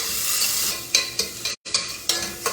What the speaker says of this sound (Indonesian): Bawang bombay turun setengah tadi yang cincang.